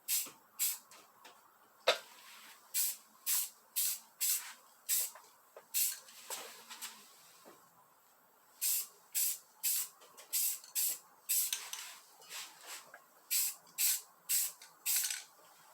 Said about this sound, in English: Now that coat may look kind of heavy, but it's really not. Just kind of misted on there.